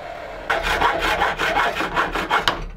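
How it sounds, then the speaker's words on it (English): A hacksaw cuts through small steel pieces in steady back-and-forth strokes, each stroke a close, harsh rasp repeating at an even rhythm with no talk. "And to make those cuts, I'm going to get my workout in with a hacksaw."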